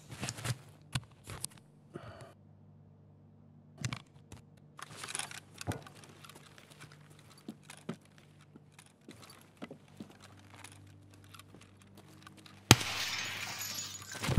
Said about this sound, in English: I tried to shoot the other glass out when I was jumping